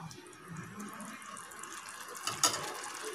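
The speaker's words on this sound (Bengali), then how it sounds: "এবার এর মধ্যে আমরা গরম জল দিয়ে দেবো। আমরা 2 কাপ গরম জল দেব।" Hot water poured into a pan of fried-down curry masala for an omelette curry, a soft steady watery pour with a brief louder splash near the end, close and fairly quiet, no talking.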